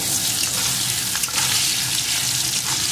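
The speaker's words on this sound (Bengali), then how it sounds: "এখন আলুটাকেও একটু লাল লাল করে ভেজে নেব" Cut potato pieces with salt frying in hot oil in a pan, a steady close sizzle and crackle with light stirring, loud and continuous, no talk.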